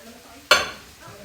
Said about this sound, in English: Now I'm just going to kind of stir it all together and let it kind of heat up together